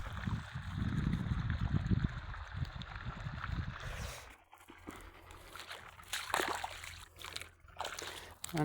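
Irrigation water from a motor pump runs into a furrow in a wheat field. It makes a steady trickling, sloshing flow, louder for the first four seconds and then quieter, with occasional splashes and faint voices in the background.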